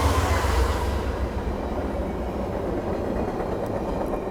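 VIA Rail passenger train passing nearby, a loud steady rumble of wheels and cars with a broad rushing roar that eases slightly as it goes by, with no voices.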